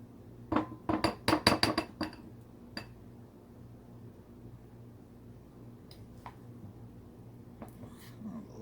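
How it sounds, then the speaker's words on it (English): Ice cream scooped into a small glass bowl: a quick cluster of sharp clinks and taps against the glass near the start, then a few scattered lighter knocks over quiet room tone. "So let's put a scoop of that ice cream in here."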